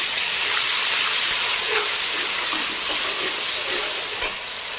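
Garlic ginger paste dropped into hot oil in a pan sizzles with a steady bright hiss, medium loud and close, with a few faint clinks and one brief knock near the end.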